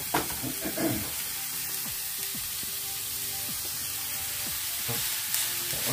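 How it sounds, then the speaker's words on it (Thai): Fresh beef for lasagna stir-fries in oil over high heat, a steady loud sizzle with occasional scrapes and clatters as the meat is turned in the hot pan. "ก็พัดเนื้อจนให้เปลี่ยนสีให้เป็นสีน้ำตาล"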